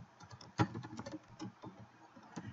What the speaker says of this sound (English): So let me just type that.